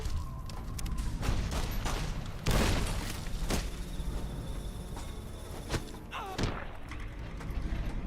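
Explosions and gunfire in the Fallout New Vegas video game: sharp booms and cracking shots burst at irregular intervals, one heavy blast standing out among scattered pops over a low background rumble.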